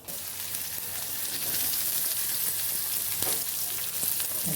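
Steady, hissing sizzle of egg fry cooking in a pan, a bright continuous crackle with a few small pops, close and alone with no talking.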